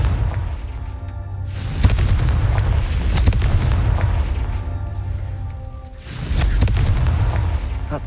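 Repeated Confringo spell blasts in Hogwarts Legacy: loud, close booming explosions, one after another, each a deep rumbling burst with a crackling tail, spread across about eight seconds.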